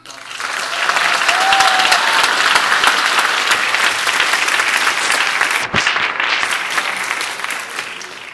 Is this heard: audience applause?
yes